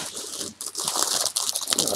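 Plastic packaging around an E.L.F. Essential brush set crinkles and crackles up close, in a dense continuous rustle with brief pauses.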